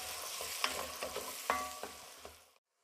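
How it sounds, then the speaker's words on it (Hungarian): Onion and garlic sizzle in a pot while a utensil stirs and scrapes with irregular clacks, steady frying hiss close by before cutting to silence. "az elején szépen elkezdjük lefonnyasztani a hagymát és a fokhagymát"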